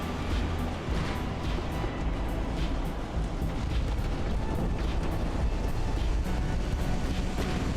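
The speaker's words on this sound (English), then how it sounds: "Another torpedo hit." A torpedo strikes a battleship in Ultimate Admiral: Dreadnoughts naval combat, producing a heavy, rumbling explosion amid a steady roar of distant battle booms that continues without pause.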